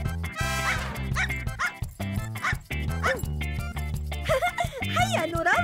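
Cartoon dogs bark and yip in quick bursts over upbeat background music in an Arabic children's animated adventure, with the barks fairly close and repeated throughout.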